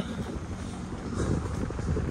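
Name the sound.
strong wind blowing at the beach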